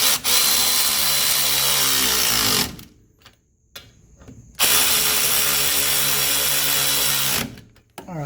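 A power ratchet spins nuts down on the front suspension of a 1983 Mercedes 300D during ball joint and shock work, two loud buzzing whirring bursts separated by a brief quieter gap.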